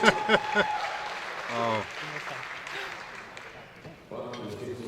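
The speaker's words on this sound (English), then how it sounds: "People cheering" Crowd at a World Games women's lightweight powerlifting meet cheers and applauds a successful lift, a burst of noise with some shouts and voices mixed in, then settling to a lower background murmur.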